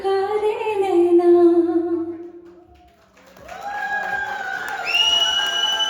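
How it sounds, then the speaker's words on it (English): An audience responds after a singer's performance at a live stage event with whoops, cheers and raised voices, plus some scattered clapping. Loud shouting and long, drawn-out calls rise, dip briefly, then swell again. "Keep the applause going for Priya Singh"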